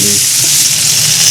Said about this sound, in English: the remaining succulent pieces of meat can then be fried and soak up the delicious sauce and fragrant aromatics